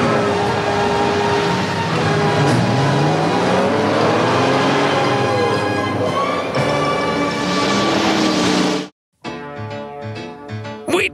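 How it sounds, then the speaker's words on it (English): Cartoon Transformers Autobot vehicle engines rev loudly and continuously for about nine seconds with a siren-like, racing whine, cut off by a short silence before a burst of tonal effects. "Autobots, start your engines!"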